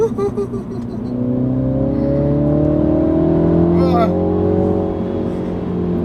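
A 2019 Mini John Cooper Works accelerating hard on twisty back roads, engine note climbing steadily through the revs in a rising whine, loud and close, with a brief gear-change dip midway.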